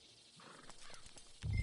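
In the Red Dead Redemption II video game, a horse's hooves clop softly, followed by a brief whinny and a louder low snort at the end, with no speech.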